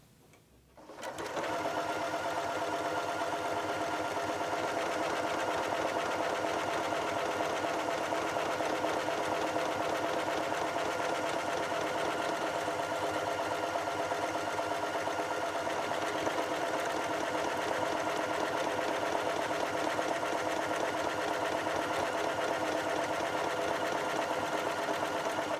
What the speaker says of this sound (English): I've selected number 23 mode 2, which is just a nice standard buttonhole, and I'm going to go ahead and sew that now